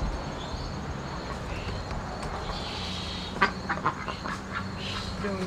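Ducks quack a few times at moderate distance over steady outdoor background noise, the quacks clustered briefly near the end.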